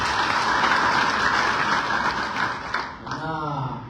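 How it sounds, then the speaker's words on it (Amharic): A church congregation claps together in sustained, dense applause that holds steady before tapering off, with voices briefly audible as it fades. "ለጌታና ለራሳችሁ አጨብጭቡ"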